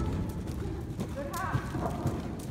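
Irish sport horse hooves clip-clopping at a steady trot on soft ground, fairly faint, with people talking over them.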